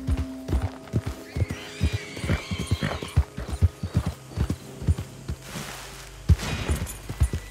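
Hoofbeats clop at an uneven walking pace, loud and close, with a horse whinnying partway through over a low hum, in the video game Red Dead Redemption II.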